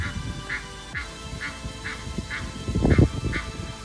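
An agitated duck quacks in a fast, regular series of about eight calls outdoors, with low rumbling noise underneath and a louder burst near the end.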